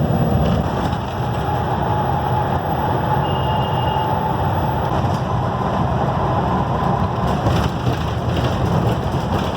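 A transit bus cruises the freeway from El Monte Station toward Pomona, giving a steady, loud, broadband rumble of road and engine noise that holds evenly throughout with no talking.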